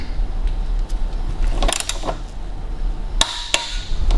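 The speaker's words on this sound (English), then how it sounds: "next we want to grab our torque wrench, and we're going to torque this up to factory spec of 30 Newton meters" Work on an Audi Q7 front suspension strut brings a few sharp metallic clicks and clanks from a torque wrench on the bolts, separated by quieter handling noise.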